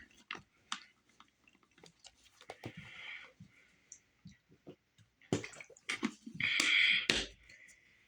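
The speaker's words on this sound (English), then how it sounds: "Start off with a drink." Someone drinks from a big water bottle close to the microphone: soft sloshing and clicks, then a burst of louder swallowing gulps and liquid noises near the end, with no talk over it.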